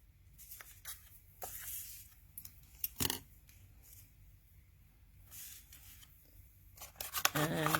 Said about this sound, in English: Now I can trim these edges here.